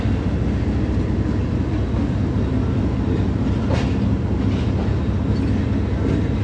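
15 Up Karachi Express pulling out of Kot Lakhpat station behind a Blue Tiger AGE30 diesel locomotive, a steady loud rumble of wagons rolling on the rails with faint clickety-clack, no voices.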